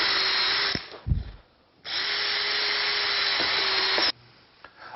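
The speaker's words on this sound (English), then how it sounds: "you're going to pre-drill your holes and get ready to fasten it" A power drill pre-drills holes in a countertop build-up strip: two close, steady runs of a few seconds each, with a short break of handling knocks between them and a faint clunk after.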